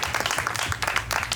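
Workshop participants at a Kuchipudi dance session in a Paris Olympic fan zone clap for themselves, a short burst of dense close applause with a little voice mixed in.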